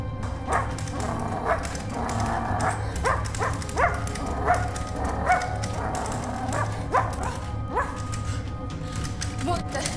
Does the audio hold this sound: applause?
no